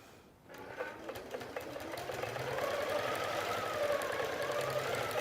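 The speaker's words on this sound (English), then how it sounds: "now it's just going to finish sewing to the next step" A Q'ue automated quilting setup on a Cutie frame drives a sewing machine through a row of large heart shapes, starting after a brief quiet moment and then stitching in a fast, steady mechanical whir that gradually grows louder.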